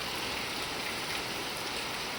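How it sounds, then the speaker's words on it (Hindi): Heavy monsoon rain pours down during Sawan, a dense, unbroken hiss of water striking the surface, loud and steady throughout with no voices. "कितनी भयंकर बारिश हो रही"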